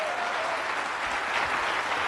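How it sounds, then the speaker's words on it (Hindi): Dense, steady applause from a crowd fills the whole moment at an even loudness, with no pauses. "जोरदार तालियां।"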